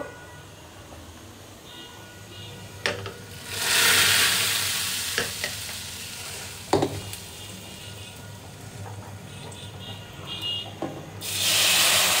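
Browned garlic and onion tempering poured into lentils, giving bursts of loud sizzling and hissing around the fourth and eleventh seconds with stirring clinks and quieter frying between, no talk.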